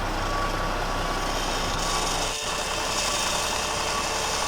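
An old FPV antenna stand motor swings the turret of a Cross RC UC6 fire truck model, giving a steady mechanical whir with a faint high tone and a brief dip midway.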